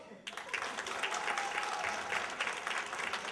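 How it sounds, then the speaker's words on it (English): Comedy club audience claps on cue during a stand-up set, a sudden burst of many hands that starts sharply and continues as a steady patter, with faint crowd murmur underneath. "Married people, clap it up."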